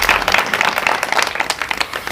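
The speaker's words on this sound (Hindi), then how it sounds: "आप इनके सम्मान में ज़बरदस्त तालियां बजाइए" Audience applause for honoured guests at a village gathering in Jayrampur, a steady burst of many hands clapping, fairly close and continuous throughout.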